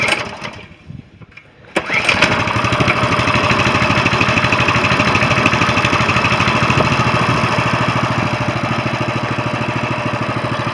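A Coleman CT200U mini bike's small engine fires up after a short quiet moment, then runs loud and close at a steady, even putter for the rest of the clip, with no talking over it.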